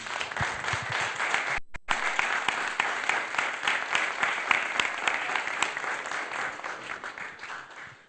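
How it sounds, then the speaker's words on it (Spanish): An audience at a community social center gives a senator a welcoming round of applause, a strong, steady burst of many hands clapping close by that briefly drops out for an instant before carrying on. "les pido le demos todos un fuerte aplauso de bienvenida"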